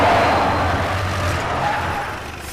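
A car in a Hindi-dubbed action movie drives and brakes to a stop, a steady loud engine and road rumble that gradually eases off over a couple of seconds, with no voices.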